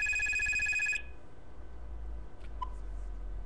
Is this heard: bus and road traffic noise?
no